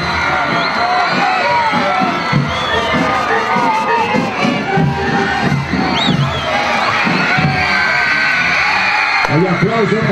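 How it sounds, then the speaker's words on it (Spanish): Crowd cheering and shouting at a street parade as a school band passes, a loud, continuous roar of voices with children's yells and whoops throughout. "Hay aplauso para la banda predilecta San Vicente de Paúl de Conca."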